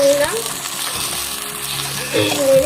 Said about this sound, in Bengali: এবারে আমি রসুন কুচিটাও দিয়ে দেবো। তারপরে একটুখানি নেড়ে